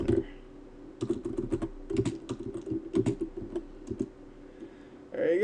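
Close computer keyboard typing arrives in quick clustered bursts with brief pauses between them, each keystroke sharp and distinct. A few slightly heavier presses stand out among the lighter taps.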